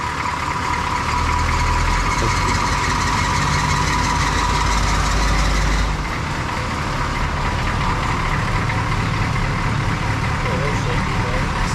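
A lifted Chevrolet squarebody truck's engine idles with a steady, rough low drone and an even knock throughout. Voices seem to come and go over the engine noise.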